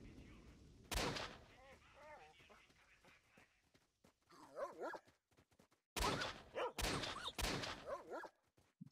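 Loud, sharp gunshots from a weapon with heavy recoil in the video game Stalker, several separate blasts firing close by, with someone talking between and under the shots.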